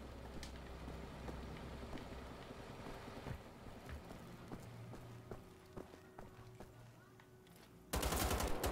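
Rapid game gunfire crackles through a firefight in Wolfenstein: The Old Blood, with scattered sharp shots over a busy background and a louder, dense burst near the end.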